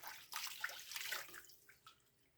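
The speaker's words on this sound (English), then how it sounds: "I'm going to start adding water in this." Water is poured into a pan of roux for clam chowder, a quiet close splashing trickle with a few brief bursts that tail off.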